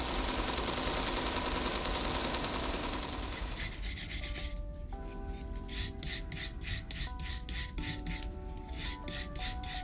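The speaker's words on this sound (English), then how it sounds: "the remains of the ceramic investment can be removed from the surface with small picks and probes," A brass brush and small picks scrape leftover ceramic investment shell off a metal casting. A steady, harsh rasp of scrubbing is followed by quicker, repeated scratching strokes with faint metallic ringing. No one talks.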